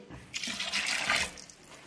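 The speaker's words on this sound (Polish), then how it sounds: "Dolewamy rosołu." Broth being poured into a pot while traditional Polish salceson cooks, a short steady splashing pour heard up close, with no one talking over it.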